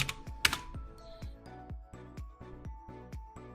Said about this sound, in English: I'm going to type in Blockstack tutorial.